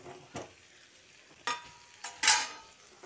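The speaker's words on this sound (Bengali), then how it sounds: "আলুগুলো দিয়ে মশলার সঙ্গে খুব ভালো করে মিশিয়ে নিচ্ছি" Fried potatoes being stirred into masala in a pan: a few separate scraping, clattering strokes, the last one loudest, with a faint sizzle in the quiet gaps between.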